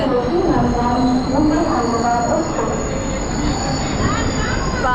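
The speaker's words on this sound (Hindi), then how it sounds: "हमारी ट्रेन अब एंड कर रही है कल्याण जंक्शन।" The Mumbai CSMT–Hyderabad Express pulls into Kalyan Junction with loud, close wheel squeal and grinding rail noise, a continuous rumble with high screeching tones rising and falling as the train slows.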